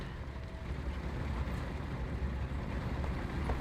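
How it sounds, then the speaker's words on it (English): Vehicle engine in the War Thunder tank game, a faint, continuous low rumble droning steadily from somewhere off to the side, with no voices over it. "Oh, I hear an engine."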